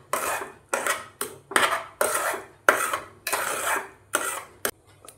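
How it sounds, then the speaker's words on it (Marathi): A spoon stirs wheat kheer with chopped almonds and cardamom powder in a metal pot, scraping and clinking in about ten steady rhythmic strokes, close and clear with no talking. "याला परत एकदा छान असं मिक्स करून घ्यायचं आहे"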